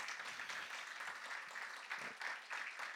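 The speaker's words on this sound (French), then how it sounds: "je vous prie d'applaudir Ketsia, Tony et Osé" An audience applauds musicians. The clapping is dense and steady, heard from a short distance and moderately quiet, with no voices over it.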